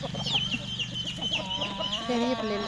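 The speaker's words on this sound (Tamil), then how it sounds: "பெரிய கோழி, பெரிய சேவல்," Several grown hens and roosters cluck steadily close by, with sharp high calls repeating over a low farmyard murmur.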